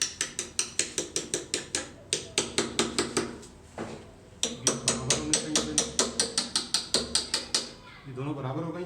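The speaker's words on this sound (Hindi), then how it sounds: "ये रॉडें यहाँ पर घुसेड़ते हैं, यूँ घुसेड़ते हैं, इसको बेशक ठोक दें," Rapid, regular hammer blows drive metal rods into a wall-mounted TV entertainment unit during assembly, two fast bursts of sharp metallic knocks separated by a brief pause, with a voice speaking at the end.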